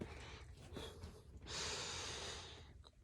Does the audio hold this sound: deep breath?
yes